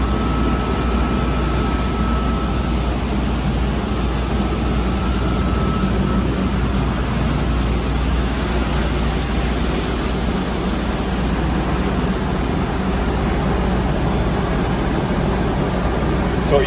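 A DM1100Z machine stripping lacquer from metal parts gives off a loud, constant broadband roar and hiss that holds evenly throughout, close and unbroken.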